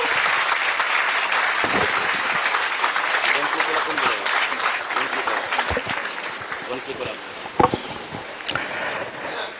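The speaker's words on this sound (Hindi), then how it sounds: "जोरदार तालियां इनके लिए।" An audience at a ceremony where the chief minister honours meritorious 10th and 12th class students gives sustained, dense applause for nearly ten seconds. It thins slightly toward the end, with a few sharper claps and possible crowd voices underneath.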